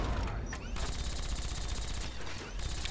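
Rapid gunfire in Fallout 3, rattling bursts that run almost continuously across the stretch, loud and close, with short gaps between volleys.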